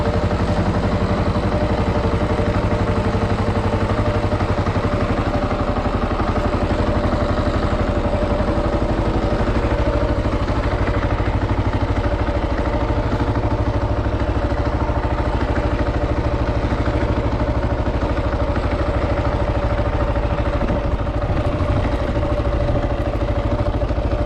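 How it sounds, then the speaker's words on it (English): A Kawasaki KLR 650 motorcycle bought cheap off Craigslist sits idling, its single-cylinder engine giving a loud, steady, close-up drone with faint mechanical clatter and no change in pace throughout. "I'm gonna let this thing idle, make sure nothing weird's happening."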